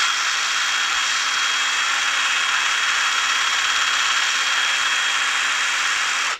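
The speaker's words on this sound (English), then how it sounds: "you could just apply pressure and drill away" A cordless drill grinds rust off a Federschwert longsword, a steady loud whirring abrasive scrub that runs unbroken for the whole stretch with no talk over it.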